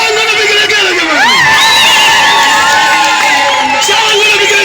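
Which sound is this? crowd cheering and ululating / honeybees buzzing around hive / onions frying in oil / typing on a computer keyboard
crowd cheering and ululating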